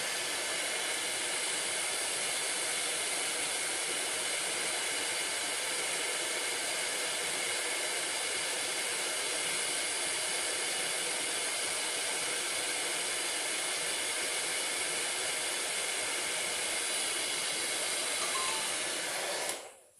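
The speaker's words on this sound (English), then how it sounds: "let's raise the temperature of the sensor by using a hot air dryer" Steady, loud hot air dryer hiss heating a sensor, running continuously for about twenty seconds, then cutting off abruptly at the end.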